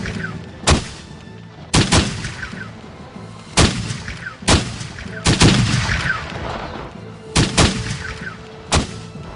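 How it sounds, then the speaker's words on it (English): A battle sound effect of guns opening fire: about eight sharp, loud shots in irregular bursts, some close together, with rumbling echoes trailing between them. "all of a sudden, the guns open up."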